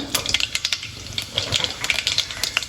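Mustard and cumin seeds spluttering in about two spoons of hot oil for a mixed vegetable sambar, a quick scatter of sharp pops and crackles, irregular and close, with a soft background sizzle.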